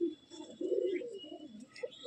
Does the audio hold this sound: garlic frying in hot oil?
no